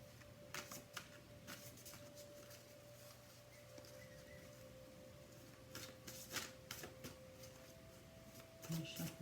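Soft riffling of playing cards being shuffled in several short bursts, close by and fairly quiet against a faint background hum.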